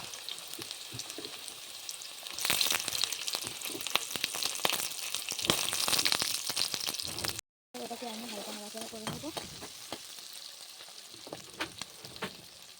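Snail meat sizzles and fries steadily in a hot pan, a dense crackling hiss that swells louder partway through, with brief stirring scrapes and a short dropout midway; no one speaks.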